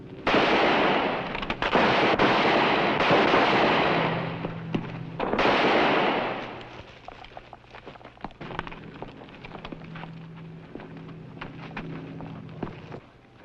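A loud burst of gunfire rings out during a shootout in a western, long booming blasts with heavy echo that fade into quieter rumbling and scattered clatter.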